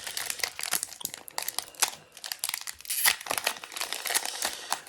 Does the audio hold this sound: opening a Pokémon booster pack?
yes